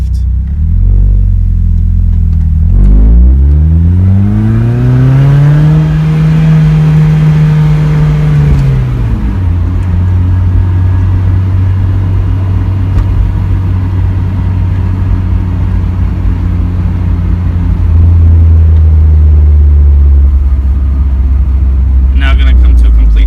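A Mazda Miata engine idles at a stop, then revs steadily up to about 4,500 rpm before the pitch drops back as it shifts. The droning rise is loud and close, and the idle rumble returns afterward.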